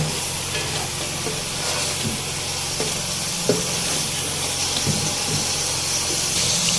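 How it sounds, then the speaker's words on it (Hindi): Chicken in milk sizzling in a karahi over a high flame as it is roasted dry, a loud continuous hiss and bubbling close up with a few soft stirring knocks, no talking. "यहाँ अब मैं फ्लेम को थोड़ा सा हाई कर दूंगी और इसको बहुत अच्छी तरह से भूनना है हमें"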